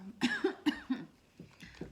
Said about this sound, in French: désolée si je tousse un petit peu